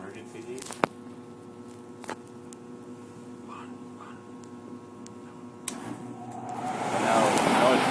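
An electric furnace switched to emergency heat gives off a steady mains hum with a few sharp clicks, then a rising broadband whoosh of airflow that swells and stays loud over the final seconds.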